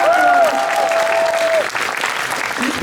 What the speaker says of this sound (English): can we get a big round of applause for everyone who was just on the stage?